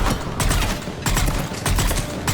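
Rapid bursts of gunfire crackle in the Mass Effect 3 video game, three loud, close volleys of repeated shots separated by brief pauses.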